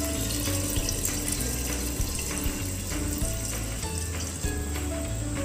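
About three cups of water splash steadily into two cups of rice in a cooking pot for chicken biryani, a continuous soft pouring and bubbling heard fairly faint and unbroken.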